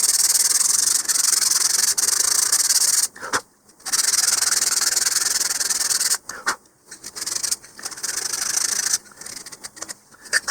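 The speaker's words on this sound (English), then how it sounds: "so now I'm just going to take some 220 grit sandpaper and smooth that" Dry model rocket putty being sanded with 220 grit sandpaper, loud steady rasping strokes running in long passes with a few brief pauses, close up and with no talking.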